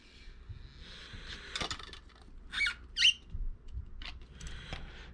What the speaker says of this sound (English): We're just pushing it in like so, sliding it into the torque tube.